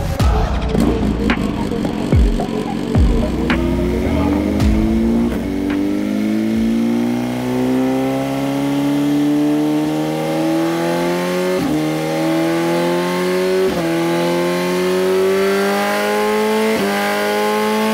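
BMW M1000R motorcycle on a dyno revs up through the gears, its engine note climbing loudly and steadily with sharp shift breaks, close and uninterrupted.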